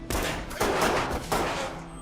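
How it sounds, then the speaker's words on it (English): Loud, rapid gunfire crackles in overlapping bursts, dense and echoing throughout the short clip. "quickly takes them all out in a burst of gunfire"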